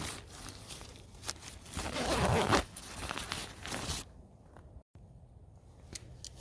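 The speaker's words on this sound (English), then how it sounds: "Zip that back up." A zipper on the rainfly of a combat tent is pulled closed in long rasping runs, fairly loud and close, with a brief stop partway through before the zipping resumes.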